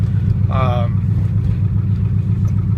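A 1978 Chevrolet Camaro Type LT with an aftermarket exhaust idles outdoors in cold weather with a steady low rumble throughout, while a voice briefly speaks over it near the start.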